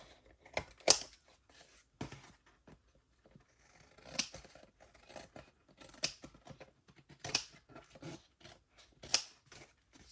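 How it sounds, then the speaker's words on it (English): Scissors trim excess pieces from a watercolor seascape landscape collage, a series of crisp snips in short bursts spread across the stretch, close and moderately quiet with no voices. "Just go back around and trim off any of those extra pieces."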